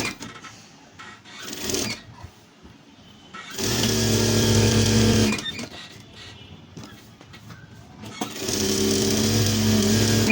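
A sewing machine stitches a girls' kameez, running in two sustained bursts of mechanical whirring with quieter handling noise between them.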